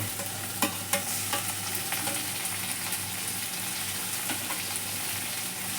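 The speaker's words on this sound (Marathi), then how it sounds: "टमाटर पण चांगले असे हलवून घेऊ." Chopped tomatoes hiss and sizzle with onion in a hot pan while being stirred for a Marathi chickpea and potato bhaji, a steady close frying crackle broken by a few sharp scrapes and clicks of the spoon.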